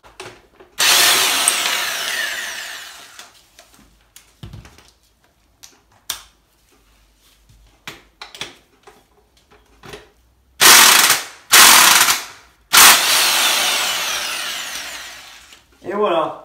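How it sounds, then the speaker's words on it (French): An impact wrench takes the bolts off a motorcycle during teardown in long loud rattling bursts, the first lasting about two seconds and three more grouped near the end, with short clicks and tool knocks in the gaps. "ça tombe directement avec la clé à choc et au moins vous ne foirez pas les boulons"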